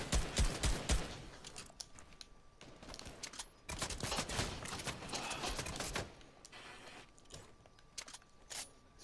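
Rapid gunfire bursts from a Fortnite match crackle in dense clusters, loud and close, with bursts strongest at the start and again mid-way, then scattered sharper shots toward the end.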